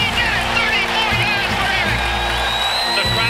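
Large stadium crowd roaring and cheering as an NFL football game between the Indianapolis Colts ends, a dense, continuous wall of noise with a commentator talking over it.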